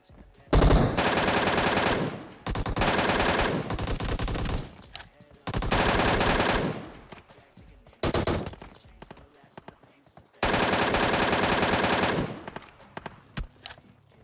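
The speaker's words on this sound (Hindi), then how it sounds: "गोलियां पूरी जोर शोर से चल रही है" Bursts of rapid automatic gunfire in PUBG Mobile come in several long volleys separated by short pauses, loud and close, with a few scattered single shots toward the end.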